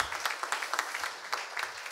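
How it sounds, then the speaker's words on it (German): Audience applause for a speaker at a discussion event on digitalisation in nursing care, a fairly sparse, quiet crowd clapping with distinct individual claps throughout two seconds, no voices. "wir sollten alle nochmal einen kleinen, großen Applaus an Thoralf Schnell"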